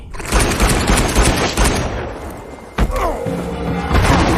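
Gunfire aimed at a monster in a film scene, a loud, dense burst of rapid shots and heavy thumps, then a short lull before a sharp crack and more rattling impacts, with no speech.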